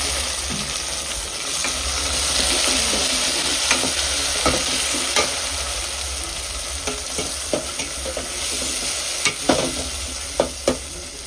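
Tomatoes fry with a marinated onion-garlic paste for fish curry, a continuous loud sizzle broken by repeated sharp clicks of a utensil stirring against the pan, growing busier toward the end.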